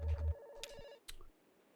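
A telephone rings in the video game Kentucky Route Zero, a short electronic ring tone followed by a couple of quieter clicks and tones, faint and heard alone.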